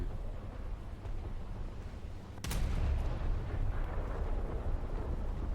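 Naval gunfire in War Thunder gameplay lets off one sharp, loud blast about halfway through, followed by a deep, lingering rumble that swells the low end over a steady background of engine and sea noise.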